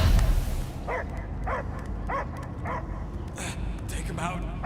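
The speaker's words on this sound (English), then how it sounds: "I hear only barking." Dog barking in the video game Guardians of the Galaxy: a series of short, evenly spaced barks and yips over a steady low rumble of game ambience, fairly close and moderately loud.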